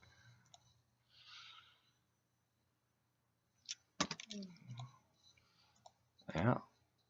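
A computer mouse clicks while editing a portrait in Photoshop, giving a few sharp close clicks spread out among soft breaths and low murmured speech.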